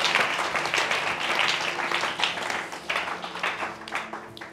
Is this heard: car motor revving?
no